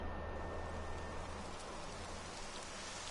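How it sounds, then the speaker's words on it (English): Steady rain falling in the Dragon Quest XI video game, a continuous even hiss of drops on surfaces that stays constant throughout with no other sounds. "It would have to go and start raining, wouldn't it?"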